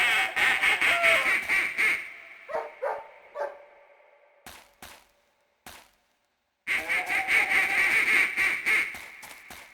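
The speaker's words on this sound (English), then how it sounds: "These birds are called ducks. Ducks quack and spend a lot of time swimming on the water." Bursts of cartoonish duck quacking from the PlayStation game Jim Henson's The Hoobs come in quick runs, separated by a few short clicks and a silent gap, then the quacking resumes loudly.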